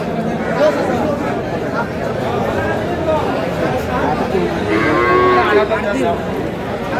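A cow with her calf lows at a busy cattle market, several drawn-out moos rising over the steady murmur of a crowd talking nearby.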